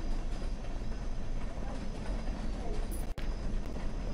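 Continuous rumbling train noise from a Roblox video game, with rattling, broadband clatter filling the clip, briefly cut by a sharp click near the end; no voices are heard.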